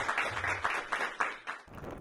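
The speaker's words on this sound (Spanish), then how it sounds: "un aplauso" A small audience claps for a journalist's remarks at a broadcast event, a short burst of uneven handclaps at moderate-low level that thins and fades out near the end.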